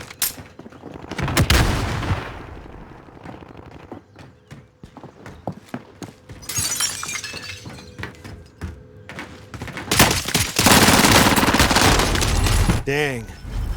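Warzone firefight in a video game: bursts of automatic gunfire and single shots trade back and forth, with thumps and heavy crackling volleys, loud and close, building toward a dense final exchange.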